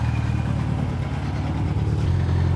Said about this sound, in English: even though the engine's running, it's ticking over